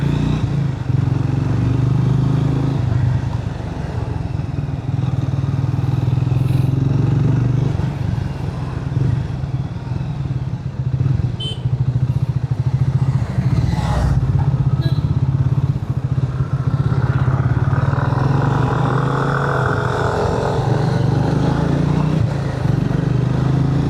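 A Triumph Speed 400 motorcycle engine running steadily with a low, throbbing rumble, heard close with road and wind noise mixed in and no clear revving.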